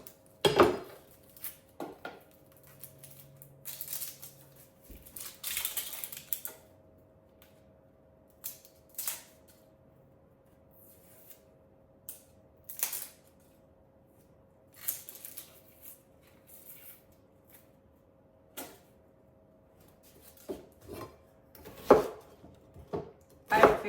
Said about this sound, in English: Going to be chopping up an onion here.